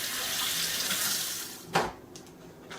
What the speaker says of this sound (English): I'm just going to give it a rinse.